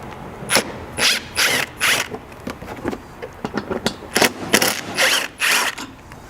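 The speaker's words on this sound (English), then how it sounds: "Those can all be removed with a 10mm." A ratchet removes 10mm fasteners from the front bumper fascia of a 200 Series Land Cruiser, giving loud, close bursts of rapid clicking in short irregular runs with brief pauses between strokes.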